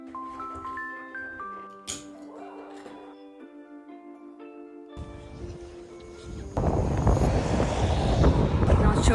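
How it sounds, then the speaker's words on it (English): Gusty wind roars and buffets the microphone outdoors, rising to a loud, constant rush after some quieter moments with faint tones. "Not sure if you're gonna hear anything because it's really windy today."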